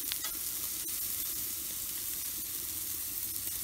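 Ribeye steaks sear over a red oak wood fire on a wood-burning stove, giving a steady, close crackling sizzle that never lets up, with no one speaking.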